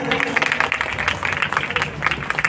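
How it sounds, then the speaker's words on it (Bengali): An audience claps at a stage program, a fairly loud patter of many hands that is slightly uneven, with crowd murmur and some voices mixed in. "আর একটিবার আমরা জোরে করতালি দিই তাদের জন্য"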